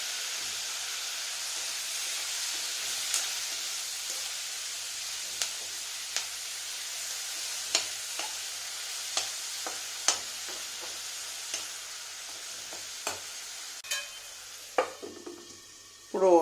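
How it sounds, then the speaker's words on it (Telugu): A ladle stirs turmeric through tomatoes in a hot frying pan, giving a steady soft sizzle and hiss with scattered scraping clicks spaced a second or so apart, then a louder clatter at the end. "ఇప్పుడు చిటకడు పసుపు వేసి కొంచెం గరిటితో తిప్పాలి"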